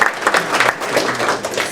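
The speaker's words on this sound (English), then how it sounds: "So let's just give them a round of applause." Conference audience applauding a church and city council guests at a just transition conference, a dense steady wash of claps lasting under two seconds, fairly loud and close.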